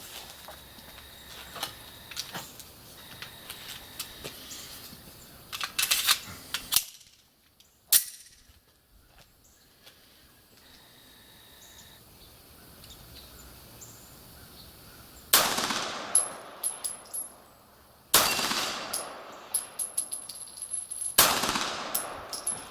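Beretta 92G Elite Compact pistol shots at an outdoor range, a few sharp loud reports separated by long quiet gaps, with faint shuffling and handling noises in between.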